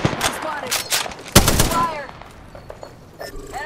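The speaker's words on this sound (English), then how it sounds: "I'm taking shots." Gunfire in Apex Legends: sharp, loud bursts of rapid shots up close, with one heavy blast and scattered distant pops, plus some game voice sounds.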